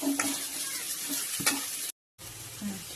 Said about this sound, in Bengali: পেঁয়াজ আর কাঁচা লঙ্কা একসাথে দিয়ে দিলাম, একটু ভাজা